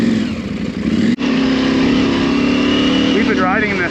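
A motorcycle runs along a fast, flowy forest trail, its engine droning loud and close with a sharp break near the start, then a steady roar with rising pitch sweeps toward the end.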